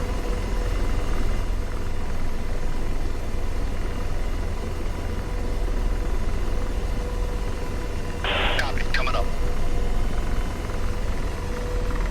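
Continuous low engine drone with a steady rotor-like hum throughout from an Apache helicopter in the video game DCS, a short burst of higher noise about two-thirds in.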